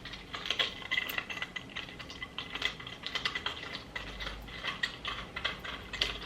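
Screwing a handle onto a small homemade decoration produces quick, close ratcheting clicks in uneven bursts, quiet and with no voices.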